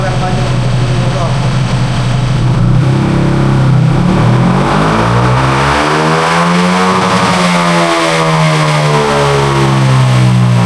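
A loud Yamaha NMAX V3 scooter engine with an aRacer ECU revving hard and continuously on a dyno, its pitch sweeping up and down through repeated high-rev pulls.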